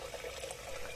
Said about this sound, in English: once the lentil is clean, I'm just going to add some water